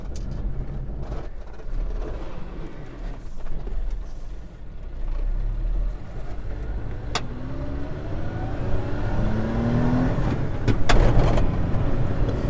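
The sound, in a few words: mini truck engine driving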